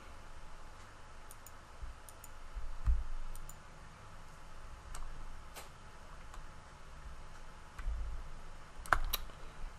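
A computer mouse gives a few faint, sparse clicks at a desk over a quiet room hum, with no talking.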